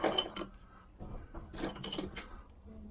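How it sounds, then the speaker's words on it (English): Ratchet tightening a bolt on a Lambretta scooter engine, a faint close run of quick clicking and metallic rattles in short bursts, no voices. "so I can tighten up that bolt"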